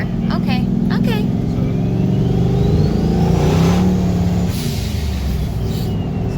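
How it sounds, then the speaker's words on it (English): A turbocharged EFI Ford 460 car spins its tires at about 60, with a loud sustained engine roar and tire noise filling the whole stretch, while people talk over it. "So that's spinning the tires at 60"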